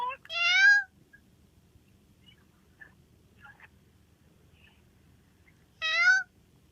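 Two short, clear cat meows, one at the start and another near the end, separated by a quiet stretch with faint background noise.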